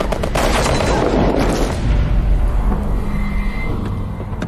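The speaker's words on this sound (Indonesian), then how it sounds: "kemudian mereka pun adu baku tembak" Loud, close gunfire from a film shootout near a car, with a burst of rapid shots up front, then booming echoes and a rumbling tail.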